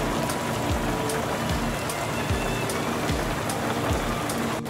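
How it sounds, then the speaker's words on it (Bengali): Steady rain pours down throughout a Bengali cartoon scene, a dense continuous hiss with scattered drips and patters, loud and close, with no talking. "এভাবে বৃষ্টি নেমে গেল"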